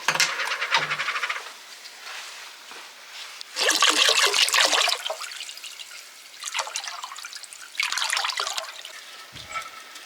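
Fresh water pours into olive brine in a container, giving bursts of splashing, trickling liquid that start and stop several times over a few seconds; the setting is outdoors on off-grid land in Portugal.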